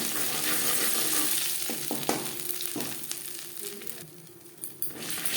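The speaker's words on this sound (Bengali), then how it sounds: "কড়াইতে আবারও তেল দিয়েছি ফোড়নে দিয়ে দিলাম গোটা দিয়ে" Whole spices such as cumin tempering in hot oil in a kadai, a close steady sizzle with scattered crackles and pops that thins out toward the end.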